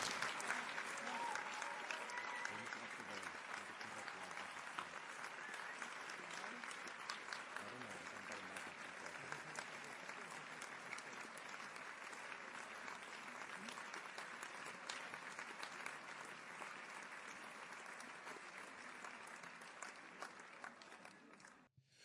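Audience applause at a Nepal book launch, a steady, dense crowd clapping that carries on evenly for over twenty seconds before tapering off at the end.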